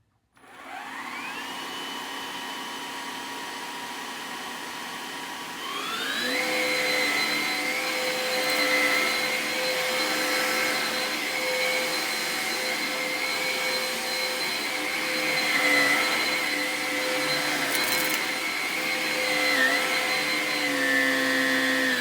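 A Hoover Evolve Pet cordless vacuum cleaner whines steadily, then ramps up to a louder, higher-pitched roar as it is run on carpet, continuing close and loud with no talk.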